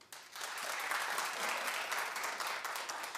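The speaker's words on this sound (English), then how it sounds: "All right, clap if you don't agree." Studio audience applause at a daytime talk show, a dense, steady wash of clapping that starts abruptly and holds at an even level throughout.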